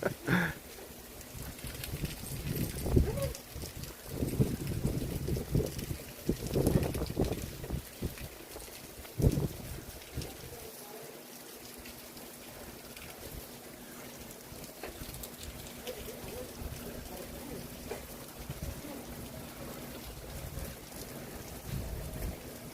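Strong wind from Hurricane Milton gusting around a house, a steady roaring rush with louder buffeting bursts early on and continuous noise after that.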